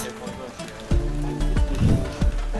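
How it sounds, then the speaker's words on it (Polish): Rain falls steadily in a soft, continuous patter, with a few low thumps and bumps close by. "pada cały czas"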